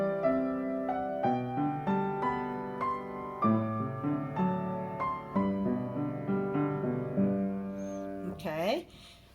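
An arrangement of Smetana's Moldau, measures 16 to 19, in a moderate melodic passage of sustained harmonic notes that shift every half second or so, ending in a brief gliding sweep.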